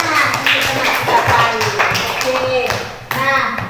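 A school class clapping for a classmate, short ragged bursts of hands mixed with a teacher's voice talking over them, close and fairly loud.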